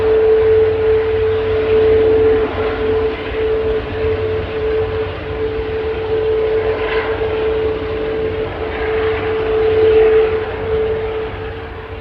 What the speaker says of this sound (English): Sound of this as it's taxiing